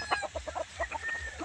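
Pet chickens cluck in a quick, close run of short, throaty calls lasting just over a second, with no voices over them.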